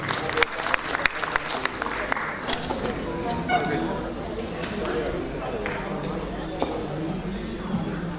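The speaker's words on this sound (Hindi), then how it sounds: "तालियों के साथ अभिनंदन" An audience at a Hindi literary award ceremony claps warmly, with sharp individual claps at first swelling into steady applause, while people talk and murmur underneath.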